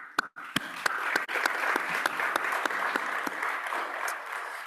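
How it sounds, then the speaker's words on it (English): Audience applause at a panel event on global health, a steady wash of clapping with sharp individual claps standing out, sustained for several seconds at moderate loudness. "Round of applause."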